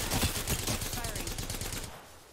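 Rapid bursts of gunfire in the video game Apex Legends, loud and close, a fast stuttering volley that thins out and fades toward the end.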